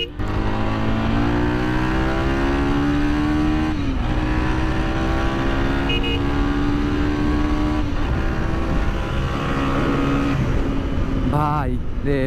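A Lifan KPR 165R motorcycle engine runs loud and close, its tone rising steadily in pulls and dropping briefly between them, as when shifting gears.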